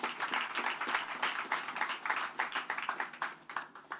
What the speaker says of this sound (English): I'd like you to please give all of them a round of applause